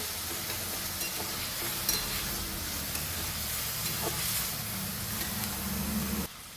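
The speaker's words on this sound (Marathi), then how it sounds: "टॅमॅटोही आपल्याला चांगला परतून घ्यायचा आहे" Tomatoes sautéing with onion in a pan for a spinach curry, a continuous soft sizzle with a spoon scraping and stirring through it, moderately quiet and close, ending abruptly.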